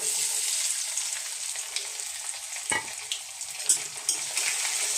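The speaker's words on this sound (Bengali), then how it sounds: "এটা ফোড়নের সাথে আমি ভেজে নেব নারকেলটা" Diced coconut pieces frying in hot oil with tempering spices, a close, bright, steady sizzle broken by a single sharp stir scrape and a few light spoon taps.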